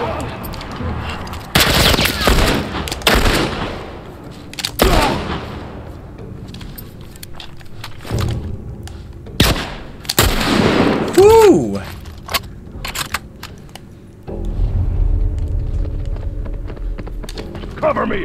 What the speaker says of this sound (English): Oh crap, they got like assault rifles.